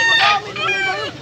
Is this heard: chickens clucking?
yes